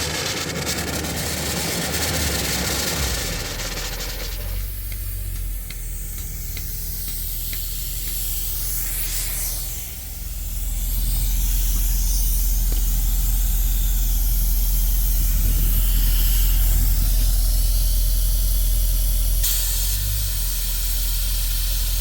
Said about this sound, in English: Now I'm going to flip it onto the wash mode so I can clean this off